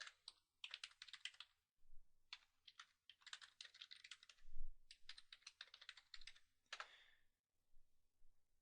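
Fingers type on a computer keyboard in irregular bursts of quick, crisp clicking keystrokes with short pauses between, close and fairly quiet in a silent room.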